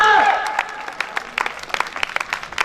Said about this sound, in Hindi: सर के नाम एक जोरदार तालियां दोस्तों